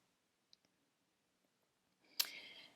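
A single computer mouse click, sharp and faint in a quiet room, followed about two seconds later by a louder burst of rustling clicks.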